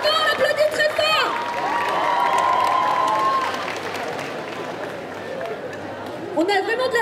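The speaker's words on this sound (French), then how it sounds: "Bravo, on applaudit très fort." Loud audience applause and cheering at a cosplay parade during a Bordeaux geek festival, with crowd chatter and whoops mixed in, while amplified voices and music tones play over the clapping.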